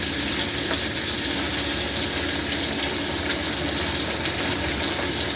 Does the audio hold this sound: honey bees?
no